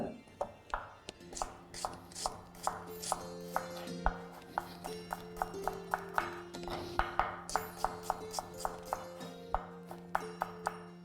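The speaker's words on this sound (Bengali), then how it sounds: "আমি এখানে দুটো মিডিয়াম সাইজের পেঁয়াজকে কেটে নিলাম" Knife chopping two medium-sized onions on a board, a steady run of sharp, distinct taps at an even rhythm, close but quiet, with faint clinking between strokes.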